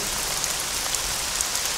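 Steady rain pours down in a dense, even hiss that fills the whole stretch at moderate loudness, with scattered drops pattering on surfaces and no voices.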